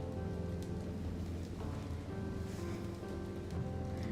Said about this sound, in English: Oh yeah, it's pouring outside